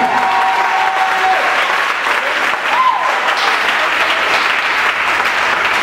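A church congregation applauding together, steady and full for the whole stretch, with a faint voice or tone briefly audible beneath the clapping.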